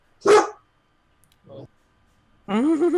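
A person imitating a sleeping goblin's bark, giving a short gruff woof, a faint brief grunt, then a longer wavering bark-like vocal sound, close and clear against silence.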